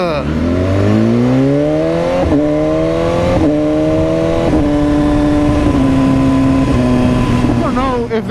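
BMW S1000RR sport bike engine revving hard while riding, a loud continuous roar climbing in pitch through several gear changes with brief dips between shifts, close and dominant, with wind rush underneath.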